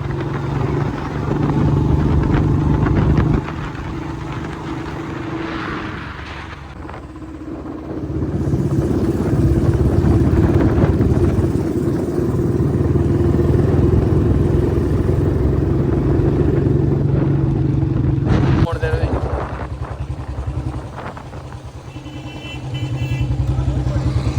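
A Royal Enfield Bullet motorcycle is ridden, its steady mid-pitched engine thump running close and continuous throughout and swelling as it pulls harder, with a rider occasionally speaking over the noise.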